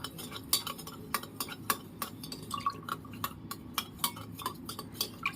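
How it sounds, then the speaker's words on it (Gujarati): Spoon stirring spiced buttermilk (chaas) seasoned with pepper powder in a vessel, making a steady run of light metallic clinks and taps, fairly quiet and close, with no voices. "હવે આપણે આ છાશને આપણે મિક્સ કરી લઈશું।"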